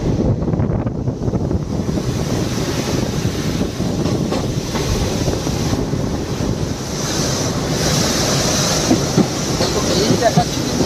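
The Teesta Torsa Express rumbles across the New Farakka bridge in a steady, loud roar of wheels and rushing wind, continuous and close, with a faint murmur of voices underneath.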